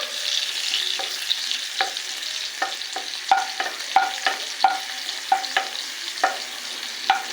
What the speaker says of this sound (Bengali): এদিকে দেবো শুকনো লঙ্কা